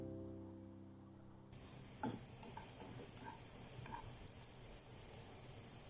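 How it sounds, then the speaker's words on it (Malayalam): Raisins frying in a pan, a quiet sizzle that starts after a brief silent lead-in, with light clicks and stirring sounds at low volume. "ഇതിലേക്ക് റൈസിൻസും ഇട്ട് നമുക്ക് വറുത്തെടുക്കാം."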